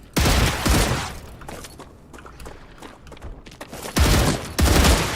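Rapid automatic gunfire from StarRupture as bugs are shot down, loud bursts at the start and end with quieter scattered shots and mechanical clatter between.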